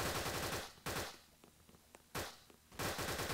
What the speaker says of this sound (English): Ooh. Using the Uzi.